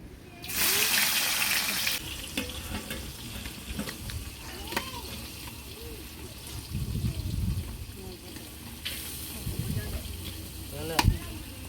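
Onions go into hot oil with fried whole spices such as cinnamon for biryani, setting off a loud burst of sizzling that settles into a steady crackle, with faint voices and small clinks around it.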